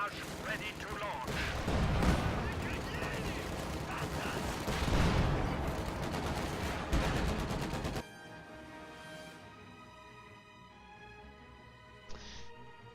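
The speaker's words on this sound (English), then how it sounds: "They only have 10 light artillery barrage ready to launch." Light artillery barrage in a strategy video game: a dense, continuous rumble of overlapping gunfire and booms for several seconds that stops abruptly, leaving quieter game sounds and a faint later shot.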